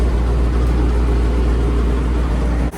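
A 1979 Ford F700 dump truck with a swapped 12v Cummins engine runs loud and close, a steady rough low rumble that dips briefly just before the end.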